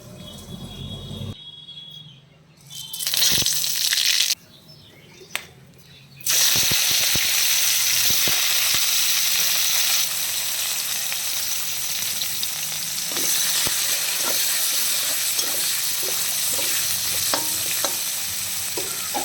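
Potatoes fry in a pan with loud, steady sizzling that starts after a few quiet gaps and then holds for a long stretch, with occasional stirring scrapes and clinks.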